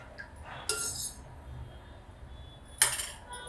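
A spoon stirs curd into milk in a bowl for setting homemade yogurt, giving two brief, sharp metallic clinks spaced a couple of seconds apart over quiet room tone.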